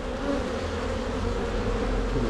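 Dense, steady buzzing of many honey bees at a crowded hive, a continuous close drone with no pauses.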